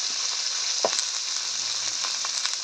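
Winter vegetables fry in a pan with a constant bright sizzle, with light stirring clicks and a brief scrape partway through.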